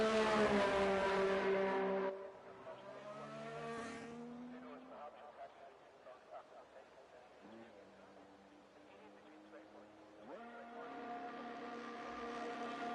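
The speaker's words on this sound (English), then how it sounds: "as we see a Ferrari now leaving the pit lane" A Ferrari F1 car in F1 24 leaves the pit lane at Spielberg, Austria. Its high engine whine rises loud at first and fades away, then a second car's engine climbs back in near the end, under commentary.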